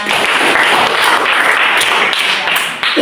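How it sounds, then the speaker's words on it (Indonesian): A classroom group of teachers in a training session claps for a group: dense, loud, continuous clapping close by for about three seconds, with faint voices mixed in. "tepuk tangan untuk kelompoknya"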